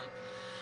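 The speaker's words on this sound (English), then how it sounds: "Definitely a raspy exhaust note," A Ford Focus ST with a four-cylinder engine speeds down a straight in the Forza 4 racing game, its raspy exhaust note a brief, steady, buzzing drone heard alone.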